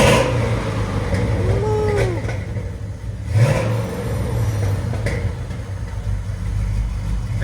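A 1947 International KB2 pickup with a 6.0L LS V8 swap, headers and a Flowmaster 40 exhaust idles with a deep rumble and takes a brief throttle blip, near and steady, with faint voices in the background.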